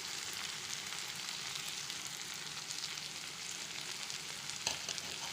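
Vegetable curry base sautéing in a pan after chilli powder goes in, a steady close sizzle with soft stirring scrapes throughout and one sharper clink near the end.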